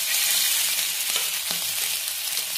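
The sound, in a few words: pieces frying in hot oil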